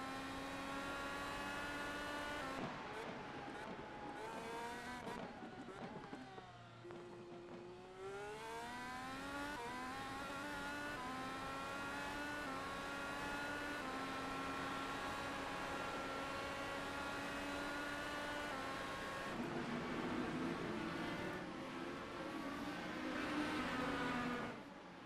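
A race car in a racing video game at Barber Motorsports Park, heard onboard: a loud, continuous engine wail that climbs through the gears, drops sharply under braking, then builds again, with no talking.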